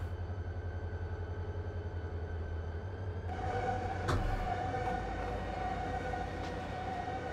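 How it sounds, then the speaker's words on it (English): Rail cars in the Run 8 train simulator game, with brakes still applied, give off a faint, steady high squeal over a low rumble, growing slightly louder midway with a brief sharp clank. "So ignore the squeaking."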